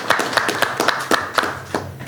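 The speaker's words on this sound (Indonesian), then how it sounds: "Hei, tepuk tangan sekali lagi." A small group clapping on a podcast set, about nine distinct, fairly close claps in a loose steady rhythm over a quiet room, with no crowd roar behind them.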